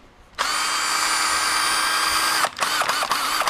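A power drill mixes a can of Plasti Dip, starting with a loud steady whine, then stopping and starting in several short bursts near the end.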